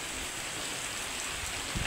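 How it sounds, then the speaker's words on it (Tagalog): Heavy rain falling steadily, a dense, even hiss of downpour with no pauses, fairly loud and close, with no voices. "Kining panahon nato nibunok na pud ang ulan."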